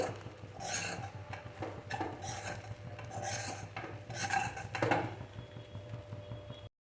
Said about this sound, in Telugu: ఒక 2 నిమిషాల పాటు ఇట్లానే కలుపుతూ హై ఫ్లేమ్లో తిప్పుకోవాలి